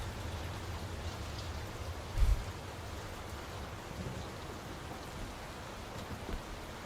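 Steady rain in the video game Layers of Fear patters on surfaces in a constant soft hiss, with one brief low thump partway through and no talking.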